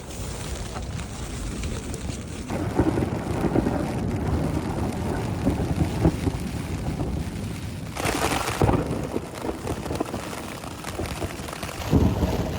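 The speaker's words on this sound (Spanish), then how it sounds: "porque están cayendo muchos truenos, relámpagos." Steady rain hisses throughout, with deep rumbling swells of thunder rolling in partway through, no voices.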